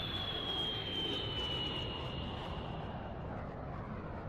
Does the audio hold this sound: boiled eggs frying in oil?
no